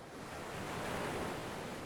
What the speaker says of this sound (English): Blue waves roll in and roll out again.